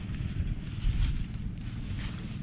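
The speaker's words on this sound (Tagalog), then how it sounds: "Lakas ng agos." A strong current rushing through a canal beside rice seedbeds, a steady dense low roar with wind buffeting the microphone, close and continuous with no talk.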